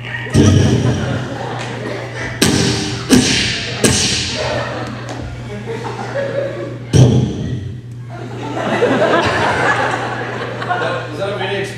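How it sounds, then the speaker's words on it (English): Several sharp thuds and bursts stand in for a small explosion in an improvised comedy sketch, popping out at irregular moments while people talk and laugh throughout. "Was that a mini explosion?"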